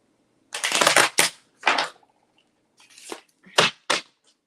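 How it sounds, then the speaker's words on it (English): A deck of cards is shuffled in several quick riffling bursts, crisp and close, separated by brief silences. "Let me get these cards a bit of a shuffle."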